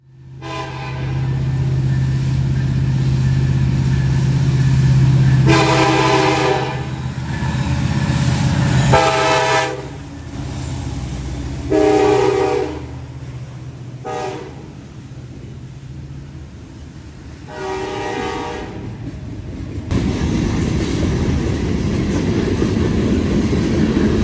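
Norfolk Southern locomotive NS 1174 leading a manifest freight train on a warm night in London, sounding a series of loud horn blasts, long and short, over a steady engine rumble that continues and swells near the end.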